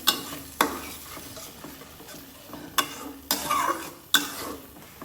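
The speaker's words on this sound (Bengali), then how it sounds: "ডিমটাকে দিয়ে দিচ্ছি এভাবে নাড়া দিতে হবে নয়তো চাকা চাকা হয়ে যাবে" Boal fish roe being stirred in a hot pan with greens, a soft frying sizzle broken by several sharp scraping clinks of a utensil against the pan at irregular intervals.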